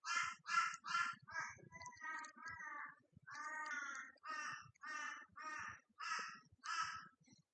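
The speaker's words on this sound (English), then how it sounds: "There are my crows squawking again." Several crows caw outdoors in a rapid series of loud, harsh calls, about a dozen in quick succession, close and clear, with no talk over them.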